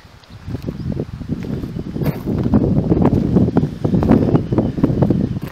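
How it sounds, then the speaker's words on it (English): Steady gusting wind in a cemetery buffets the microphone, a low rumbling roar that builds after the first second and stays loud throughout. "It's getting a bit windy."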